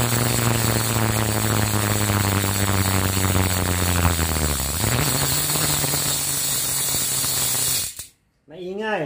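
Freehub ratchet of a Rojixo Black Series aero bicycle wheelset clicks loudly and steadily for about eight seconds, with a brief drop to near silence before the ticking resumes.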